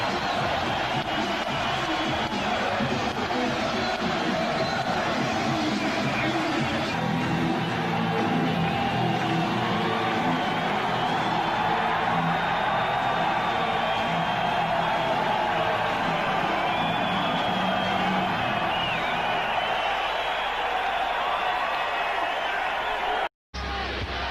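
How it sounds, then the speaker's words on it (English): A basketball arena crowd at a 1999 Knicks vs Spurs game roars and cheers steadily and loudly throughout, a dense wall of voices with an announcer talking over it. "More importantly, feel the crowd."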